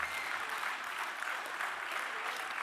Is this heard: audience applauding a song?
yes